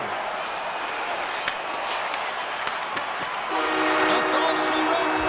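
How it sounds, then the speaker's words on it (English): Home fans in a hockey arena crowd at a Lightning–Kings game roar loudly and steadily, the din swelling even louder partway through as a horn-like tone blares over the cheering. "the home team giving the fans something to cheer and get loud about"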